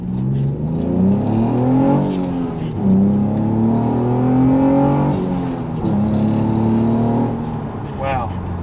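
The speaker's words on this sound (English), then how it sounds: "Do one final pull." A V35 Nissan Skyline or Infiniti G35 engine with a big-bore throttle body revs hard through several rising pulls, pitch climbing and dropping between gear changes, loud and close with a brief voice under it.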